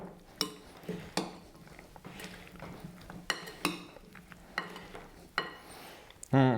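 Carrot and cashew nut salad stirred with a utensil in a steam cooker pot, a series of separate clinks and scrapes against the dish with quiet gaps between, ending in a louder clatter.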